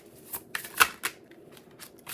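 Tarot cards are shuffled in quick, crisp riffling bursts, a few sharp snaps standing out against a quiet room.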